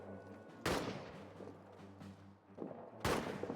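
A volley of rifle fire in the trench-warfare game All Quiet in the Trenches: two loud, close, crashing bursts about two and a half seconds apart, each followed by a short rolling echo over low ambient rumble.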